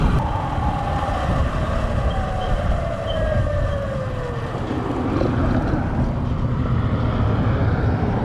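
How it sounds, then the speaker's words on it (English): Loud truck roaring past on a road, a heavy engine rumble with a descending whine that sweeps by at close range, blended into constant wind and traffic noise from a moving rider. "Truck's loud for no reason."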